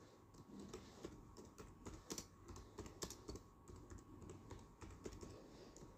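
HTML code typed on a computer keyboard in a fast, steady run of light clicking keystrokes with occasional louder taps, fairly quiet and with no voice over it.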